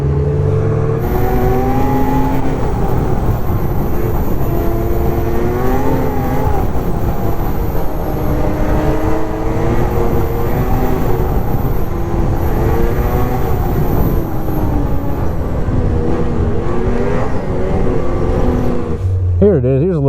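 Small XS-chassis RC car motor held at partial throttle, a steady cruising whine with shifting pitch that runs loud and close for about twenty seconds, with talk over it.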